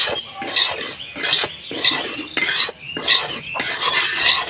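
Semolina lightly fried in a pan, stirred with rhythmic scraping strokes roughly every half second, loud and close with a gritty, rasping texture and a faint sizzle underneath.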